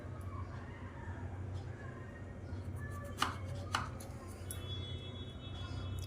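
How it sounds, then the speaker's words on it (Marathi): A knife slices brinjals lengthwise on a board in a kitchen, giving a few sharp, close cuts and taps over a low background hum. "अशा प्रकारे आपण सगळी वांगी उभी चिरून घेऊया मधून"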